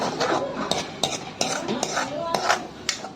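A spoon scrapes and clinks against a pan as egg is stirred into tomatoes, sharp metallic taps every half second or so over a faint sizzle, near and moderately loud, alone.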